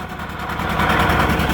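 A 1957 John Deere 820 tractor at a tractor pull gives off a loud, close, throbbing engine drone under load, rough and continuous for a brief moment.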